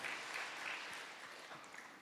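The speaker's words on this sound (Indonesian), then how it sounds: "Tepuk tangan bagi Tuhan." A church congregation claps continuously in a faint, distant, even patter that holds steady for the whole stretch.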